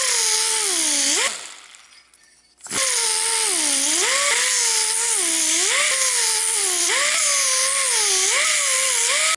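Power tool grinding round the sharp edges of a steel part for a mud mower transaxle relocation, a loud, steady high whine with repeated pitch dips as it bears on the metal, pausing briefly then resuming.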